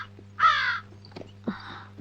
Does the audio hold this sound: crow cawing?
yes